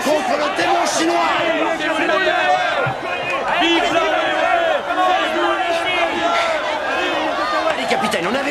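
A dense crowd roars, cheers and shouts for a champion fighter about to brawl bare-handed in an action film, a continuous loud wall of voices with scattered slams and claps.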